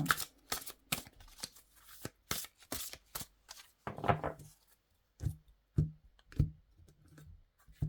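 Tarot cards are shuffled for a reading in close, crisp bursts of riffling and slapping, several quick clusters of card noise separated by short pauses, with no talking.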